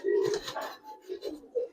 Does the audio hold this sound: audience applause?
no